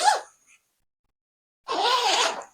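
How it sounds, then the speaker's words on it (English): A travel carry-on backpack being zipped, a short zip at the start, then a gap of silence and a longer, louder zipping pull close by. "This zips back up."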